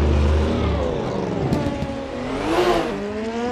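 Drift car engine at MotoArena Toruń during a Drift Corner Grand Prix battle, revving hard then easing off in swells, a loud close roar with a rising pitch sweep near the end.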